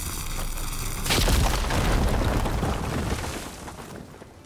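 A fire gleam blowing up in the video game Horizon Forbidden West, a loud deep explosion that bursts after a second and rolls on as a long, fading rumble, with no talk.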